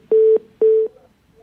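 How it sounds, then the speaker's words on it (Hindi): Two identical steady electronic telephone line tones sound in succession over a phone line after a call drops, each holding about a quarter second with a short silent gap between, clear and alone. "ठाकुर जी का फोन डिस्कनेक्ट हो गया"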